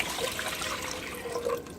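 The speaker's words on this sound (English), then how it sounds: "let's add 1 liter of water" Water poured into a pot on a stove while making a homestyle chicken salad, a steady broadband splashing rush that holds at an even level for the whole stretch with no talk.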